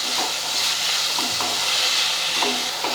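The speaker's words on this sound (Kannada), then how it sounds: "ಈಗ ಉಳ್ಳಾಗಡ್ಡಿ ಟೊಮೆಟೊ ಸ್ವಲ್ಪ ಫ್ರೈ ಆಗಲ್ಲ." Onions and tomatoes with salt fry in a pan for a vegetable palya, giving a steady, close sizzle with light stirring scrapes now and then and no talking.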